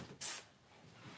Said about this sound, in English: This bath spray, this is a Rosewater and Ivy.